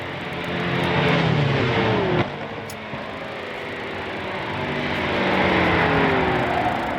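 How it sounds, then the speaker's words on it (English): A group of 1955 race cars in a racing video game approaching Blanchimont, a steady loud engine roar with rising and falling pitch as several cars drone together, briefly dipping before swelling again. "A gaggle of cars on the approach to Blanchimont."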